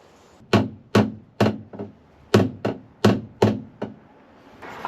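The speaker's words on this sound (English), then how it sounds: "get that first nail in" A hammer drives a nail into wood during a camper van kitchenette build, with about ten sharp, close knocks in an uneven rhythm, some blows quicker than others, and no talking.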